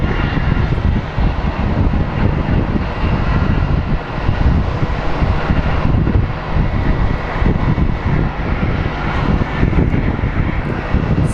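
United airliner landing at Phoenix Sky Harbor, a loud, continuous engine roar with slight rises and dips in level over several seconds, no voices present.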